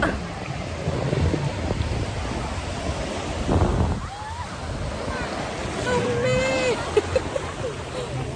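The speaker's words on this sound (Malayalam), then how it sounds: "ബീച്ചിൽ വന്ന ഈ തിരയെ കൂടെ നടക്കണമെന്നാണ് പറയണത്" Sea waves washing onto the beach at Puthuvype, Kochi, a steady rush of surf and wind buffeting the microphone, with people talking nearby and a brief swell of breaking water midway.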